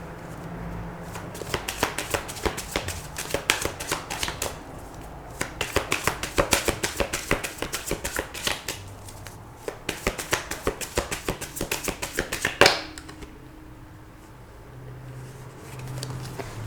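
Tarot cards being shuffled in repeated quick bursts of crisp riffling and snapping, close by, with short pauses between rounds and no talking.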